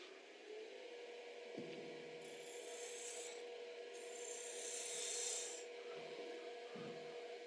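A tool cuts a chamfer on a spinning wooden peppermill on a lathe, a low, steady rubbing hum broken by two bright, hissing rasp bursts of a second or so each.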